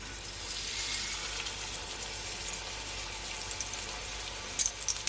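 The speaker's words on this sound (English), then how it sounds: "So my oil is now heated up. So now I'm gonna add my pork chops." Pork chops frying in hot olive oil in a pan: a dense, steady sizzle that stays loud and even throughout, with a few sharper crackles near the end and no talking.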